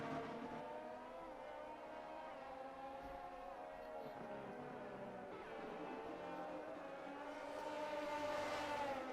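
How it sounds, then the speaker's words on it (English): Race cars on hot laps at Zandvoort in a racing game drone steadily, engines holding a high whining pitch with gear shifts and a rising rev toward the end, under quiet commentary. "Several cars going on hot laps now"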